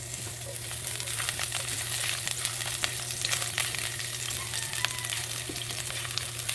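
Onions sauté in a pan for ginataang papaya, a continuous close sizzle over a low steady hum with occasional small crackles.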